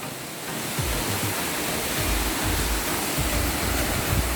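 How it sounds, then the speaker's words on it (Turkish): A steady, full roar of falling water from Mençuna Waterfall fills the air, broad and constant like a close waterfall, with no voices. "İşte Mençuna Şelalesi."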